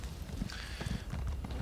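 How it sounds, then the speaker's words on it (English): A horse gallops in Elder Scrolls Online, its hooves giving a quick, soft clip-clop rhythm that sounds close but fairly quiet, with no talk over it. "Go back on your horse, ride up and around all this stuff."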